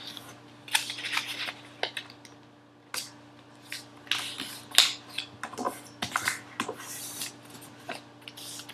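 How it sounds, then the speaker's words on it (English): Paper is folded for an origami lotus flower: close, crisp crinkles and sharp creasing snaps come in irregular bursts over a quiet background hum, with no talking. "So again, folding this paper in half."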